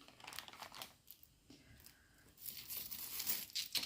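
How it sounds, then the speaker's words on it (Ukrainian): Crinkly plastic bag rustling and tearing with a soft patter of vintage costume jewelry pouring out, growing busier toward the end. "Ось сюди пакет і ось так висипаємо."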